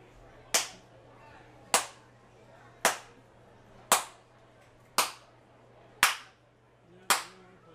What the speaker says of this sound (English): Hey, my clapping works.